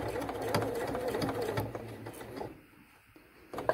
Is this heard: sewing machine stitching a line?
yes